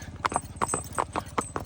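A horse, a mare brought along by a friend, clip-clops on a road in a steady rhythm of hoof strikes, fairly close; low rumbling noise sits underneath.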